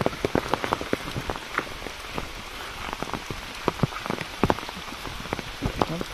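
Steady rain patters on a hard surface at Matheran, India, with scattered louder drops ticking close by over a constant wash of falling water.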